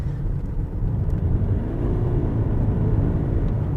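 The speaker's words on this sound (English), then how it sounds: "the engine kind of goes wah, like that" A Toyota Highlander hybrid's engine revs steadily under acceleration with no gear changes, a continuous loud low drone rising and holding throughout.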